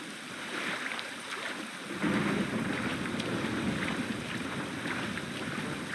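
Steady rainfall fills an outdoor scene in The Witcher 3, a dense even wash of droplets with a low rumbling undertone that thickens after a couple of seconds and holds at moderate loudness.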